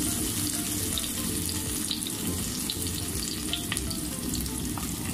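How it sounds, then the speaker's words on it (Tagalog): Garlic and onion sautéing in a pan for beef oxtail sinigang, a steady close sizzle running the whole time with scraping stir sounds and a few clinks, no talk. "Kapag naamoy na natin ang aroma ng bawang at sibuyas, halo lang natin."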